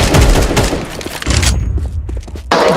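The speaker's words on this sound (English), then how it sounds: "I'm throwing a grenade." A grenade blast in Counter-Strike 2, a loud, booming burst right at the start with crackling debris rolling on for over a second, then a quieter lull before another heavy burst of noise near the end.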